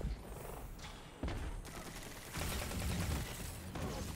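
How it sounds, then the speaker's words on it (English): Grenade launcher fire in Destiny 2 rolls in as loud, dense bursts of blasts and rapid fire, with sudden jumps in intensity and a continuous crackling wash between shots. "Grenade launchers."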